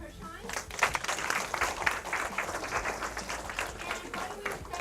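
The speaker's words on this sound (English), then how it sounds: "a big round of applause" Audience applause for a guest at the end of a local math help broadcast, a few seconds of steady clapping from a modest crowd, moderately loud and continuous.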